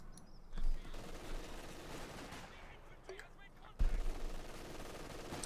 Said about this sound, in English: Section being hosed down by the MG42, anti-tanker opening up as well